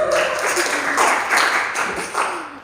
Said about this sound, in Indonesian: Boleh tepuk tangan sok Kak.